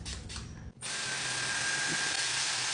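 A Dyson hair dryer blows steadily while drying hair, a loud continuous broadband whoosh that starts after a brief softer burst and a short pause, then holds evenly to the end.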